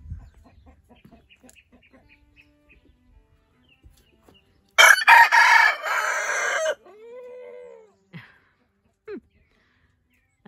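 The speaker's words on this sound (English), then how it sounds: "That's Eric, our new Ericana cockerel." An Ericana cockerel crows once, close and loud, in a rough two-second call in a quiet garden, followed by a few soft clucks and short squawks.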